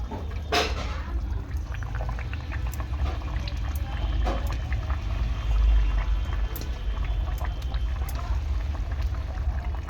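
Pieces of fish slide into a pot of simmering taro curry, giving a short wet plop and a gentle liquid pour near the start, then a low steady bubbling with scattered small clinks and scrapes.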